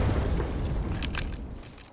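In Escape from Tarkov, a grenade goes off with a deep, rumbling boom that fades away over two seconds, followed by a few faint clicks and rattles.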